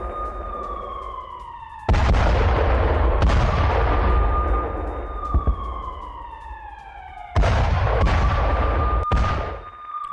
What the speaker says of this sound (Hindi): कैसे यूक्रेन ने रूसी T-80 टैंक को हॉवित्जर तोप से तबाह कर दिया